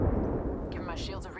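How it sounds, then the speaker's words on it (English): A video game airstrike explosion booms low and heavy as a single rolling blast, with higher game effects and chatter tones layered on top toward the end. "we've got an airstrike coming in"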